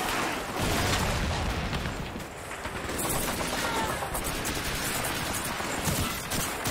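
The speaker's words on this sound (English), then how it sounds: "There's somebody up there shooting me, peeps." Gunfire in Call of Duty 2 crackles in dense bursts and rapid volleys with booming reports over a continuous battle din, loud and sustained throughout.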